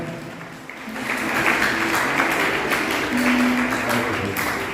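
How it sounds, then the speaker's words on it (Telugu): A congregation at a charismatic prayer service and Holy Mass at RCM Church, Proddatur, claps in a dense, sustained round. The applause swells after the first second and stays strong, with faint voices and a held tone beneath. "గట్టిగా చప్పట్లు కొట్టాలి, గట్టిగా చప్పట్లు కొట్టాలి."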